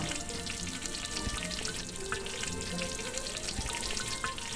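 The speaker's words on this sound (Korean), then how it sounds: "지짐이 그 익는 소리, 이제 막 싹 파도 소리 같기도 하고" Korean jijimi pancake frying in a pan, a dense, continuous crackling sizzle heard up close and fairly soft, with no talking.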